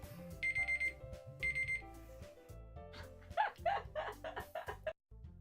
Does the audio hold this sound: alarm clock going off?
yes